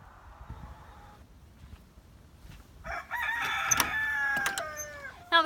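Chickens clucking and a rooster crowing close by inside a coop, starting after a quiet stretch and growing busier and louder toward the end.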